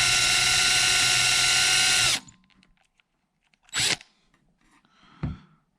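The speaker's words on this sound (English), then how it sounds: "Drills will take the path of least resistance, and that's into the plastic." A power drill bores into the plastic tip of a G&G Predator airsoft gun, a loud, steady high whine for about two seconds that cuts off abruptly, followed by a few brief clunks and scrapes of handling in near silence.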